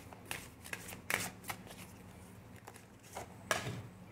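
Oracle cards being shuffled by hand, giving several short crisp riffling bursts with brief pauses between them, close and fairly quiet, with no talking.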